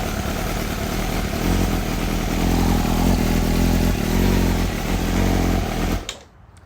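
A 2017 Yamaha R6 motorcycle engine starts and runs loud and close, a steady buzzing drone lasting about six seconds before cutting off abruptly into near silence.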